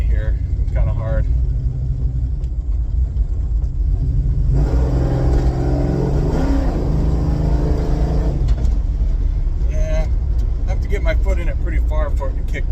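Plymouth Cuda with a built heavy-duty transmission accelerating, a deep rumbling engine that swells into a loud rising rev mid-clip with a firm shift, under someone talking throughout.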